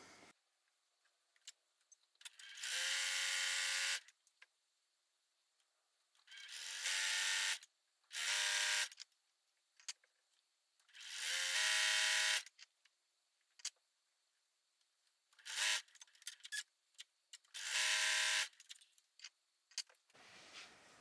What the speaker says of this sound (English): over at the sewing machine, sew, sew, sew, sew to a gap, finish that out